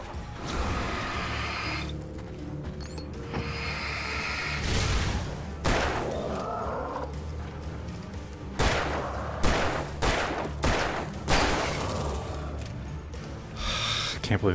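Gunfire from the flashlight-and-firearm fighting in the video game Alan Wake, a series of sharp broadband shots spread irregularly across the stretch, several in quick succession near the end, over a steady eerie game soundscape with occasional breathy gasps.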